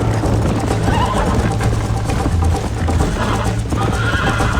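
Steady horse hoofbeats at a gallop in the video game Red Dead Redemption, loud and continuous, with a neigh mixed in and dense game background sound throughout.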